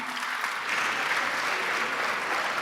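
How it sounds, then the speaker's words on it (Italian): A crowd applauding a visiting folk group from Oliena at a Sardinian festival in Ollolai, steady dense clapping throughout. "un applauso a Oliena"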